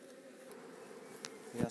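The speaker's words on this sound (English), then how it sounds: "I need to get all these bees out of the way." A steady, low droning hum of many honeybees buzzing close by around an open hive, continuous throughout, with a slightly louder swell near the end.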